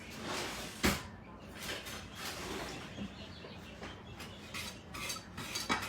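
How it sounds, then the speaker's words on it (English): Ingredients for a strawberry dessert are whisked in a bowl, a quiet, uneven run of clinking and scraping strokes against the bowl, faint and close, with no voices. "We're going to give it a good whisk."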